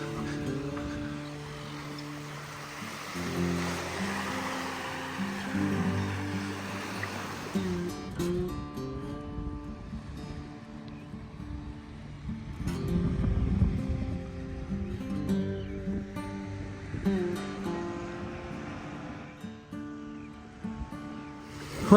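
Waves wash onto a Baltic Sea beach near Krynica Morska, Poland, in brisk wind, a steady broad rush that swells and ebbs continuously, with low gusting rumble and no talk.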